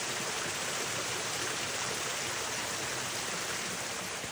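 A low river stream on the Kedumba Pass trail flows with a steady, unbroken broadband rush of water, close and even throughout with no voices.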